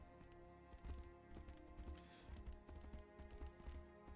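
Horse hooves clip-clop in the video game Tainted Grail: The Fall of Avalon, a quiet, steady run of hoofbeats over a low ambient game backdrop.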